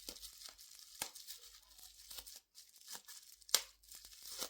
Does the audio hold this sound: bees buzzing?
no